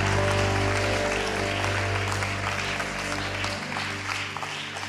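A church congregation claps at a prophecy service, a dense continuous patter of many hands over sustained keyboard or organ tones, fading slightly toward the end.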